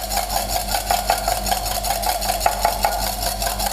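A fork or whisk beats egg wash for croissants in quick, rhythmic strokes against the bowl, close and loud, with an even clicking beat and no talking.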